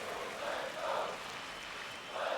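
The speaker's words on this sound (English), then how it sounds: "the crowd trying to give the Cardinals some life here" Crowd at a Cardinals baseball game swells into cheers in broad, distant waves, rising twice and again at the end over steady stadium murmur.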